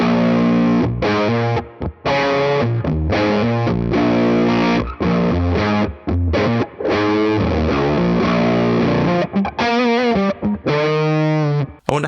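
Electric guitar played through a Neural DSP amp-sim plugin on a factory preset, heavily distorted with effects, ringing sustained chords and riffs loud and continuous, with brief gaps between phrases.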